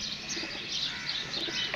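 A pigeon coos and chirps from a rooftop loft among a flock of kabootar, a soft steady run of calls with no talk over it.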